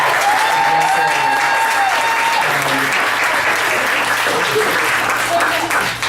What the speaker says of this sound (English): But give another round of applause